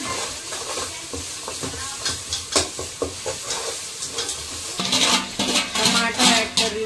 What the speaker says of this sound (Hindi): डाल के इसको अच्छा भून ली मैं अदरक लहसुन को मसाले के अंदर तेल के अंदर।